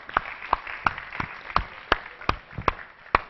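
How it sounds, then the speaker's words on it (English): Slow, evenly spaced single claps ring out about three times a second, crisp and fairly close, as an audience of engineers applauds after a two-day event; the sparse claps sound more like one or a few people clapping than a full crowd. "a huge round of applause to everybody that has done everything"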